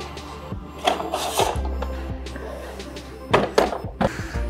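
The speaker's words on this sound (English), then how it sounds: "Then we'll use a small Allen wrench to tighten them down" A small Allen wrench turns bolts on a racing simulator cockpit frame, giving scraping, rasping twists and occasional knocks up close, with faint talk in the background.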